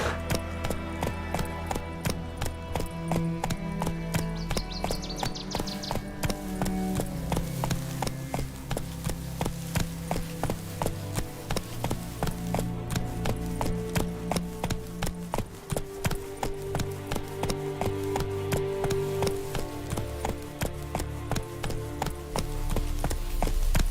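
Roach, a horse in a video game, gallops with a continuous rapid run of hoofbeats, steady and fairly close, over background game music.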